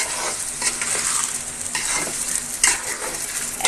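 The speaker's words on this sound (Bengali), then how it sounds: "এখন আমি চালটাকে কিছুক্ষণ ভেজে নেব।" Rice fries in a pan with cinnamon, cardamom, cloves and bay leaf for pulao, giving a close, steady sizzle broken by repeated scraping stirs and light metal clinks.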